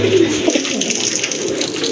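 Pigeons cooing at a pigeon sale: throaty coos sound close over a steady, busy background hum.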